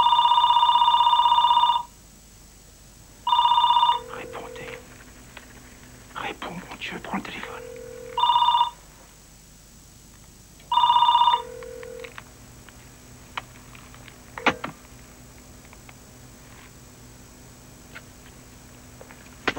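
A telephone rings in bursts of electronic trills, each ring followed by a brief pause, repeating several times at steady intervals against a quiet room with faint whispers and small movements, in a 1997 French TV film.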